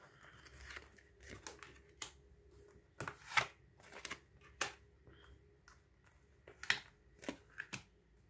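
Tarot cards are flipped and laid down one after another in a quiet room, producing a series of soft, crisp papery snaps and slides at irregular intervals.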